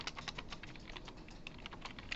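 Typing on a computer keyboard, a quick, irregular patter of close key clicks and taps coming in short bursts, fairly soft and heard alone without any talk.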